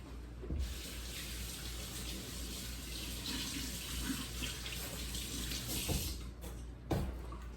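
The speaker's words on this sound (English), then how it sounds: "I'm going to wash my hands." A faucet runs steadily while hands are washed in a sink, a faint, continuous rushing of water with a few soft knocks near the end.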